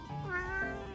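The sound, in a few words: cat meowing, sounding like it talks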